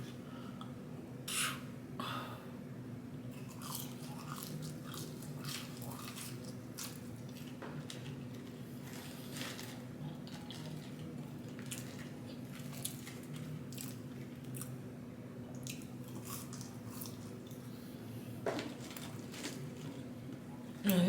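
Close, quiet chewing of McDonald's french fries, with soft bites and moist munching scattered through a long stretch over a steady low hum and no talk.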